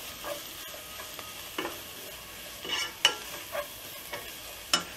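Paneer fried rice fries over a high flame with a gentle background sizzle, broken by several sharp scraping taps of a spatula tossing the rice against the pan.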